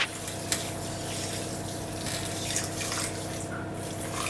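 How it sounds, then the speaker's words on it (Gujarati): Water poured into a vessel over sugar to make syrup for adadiya pak, a steady close splashing gush with a few drips, no voices. "હવે ખાંડ ડૂબે એટલું પાણી લેવાનું છે"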